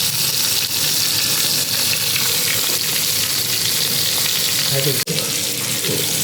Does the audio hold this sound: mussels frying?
yes